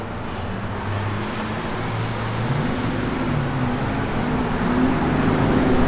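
A 1955 Chevrolet Bel Air with a mild cam on the road, its engine droning steadily with low rumbling tones that shift in pitch as it runs, under continuous road and wind noise.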